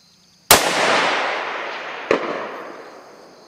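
A rifle firing at long-range steel targets out to 400 yards outdoors: two sharp shots about a second and a half apart, the first loud with a long rolling echo, the second slightly fainter, over quiet surroundings.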